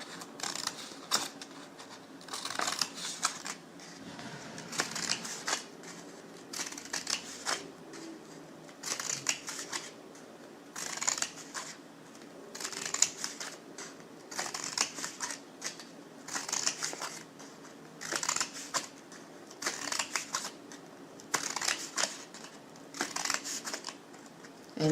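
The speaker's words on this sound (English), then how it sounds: "So you're just going to cut from the folded edge inward." Scissors snip through folded paper being cut into paper flowers, a close, crisp run of repeated cuts in quick clusters with short pauses between them.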